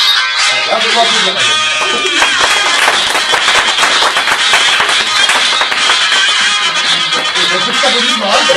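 Students in a high school classroom clap in a dense, continuous burst lasting several seconds, mixed with overlapping voices and background noise.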